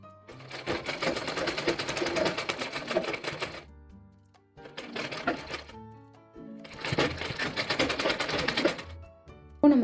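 A sewing machine stitches folded fabric in three rapid, buzzing runs separated by short pauses. It is loud and close, with no talking.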